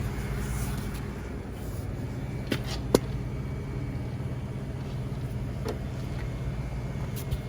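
A freezer fan motor spinning with worn-out bearings, a steady low drone with a faint whine, broken by a few sharp clicks and ticks.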